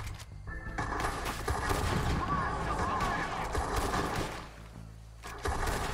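Rapid gunshots in Red Dead Redemption 2, a dense volley of sharp cracks and rattling fire filling most of the moment, easing near the end, with a voice talking over the shooting.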